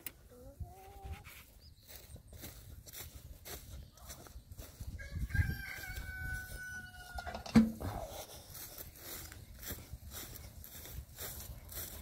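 Chickens cluck softly in the background while a rooster crows once in the middle, with a few brief noises around it.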